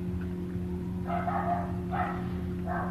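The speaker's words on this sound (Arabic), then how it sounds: "الكلب ينبح ومو راضي يسكت" A dog barks in the distance, three short muffled bursts spaced about a second apart over a steady low electrical hum, faint and without speech.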